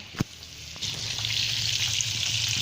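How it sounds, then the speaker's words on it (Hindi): Chicken pieces frying in hot oil for KFC-style crispy fried chicken, a steady broad sizzle that swells after a brief knock and holds loud and close throughout, with no talking. "गोल्डन कलर होने तक इसे फ्राई करना है अच्छी तरह से"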